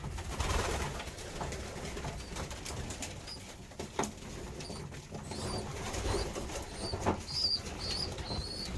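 Racing pigeons in a loft coo steadily throughout, with occasional wing flaps and bird calls over a dense, close background of bird noise; no one speaks.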